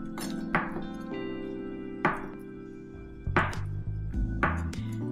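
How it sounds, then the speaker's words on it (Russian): A knife chops washed tofu into cubes on a cutting board, giving four or five distinct, close thunks spaced irregularly over a steady background hum. "Нарезаю на кубики."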